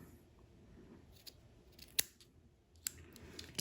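Scissors snip through cotton wick while building an RDA, a single sharp cut near the middle with a few lighter clicks of the blades afterward, close and quiet against a soft background.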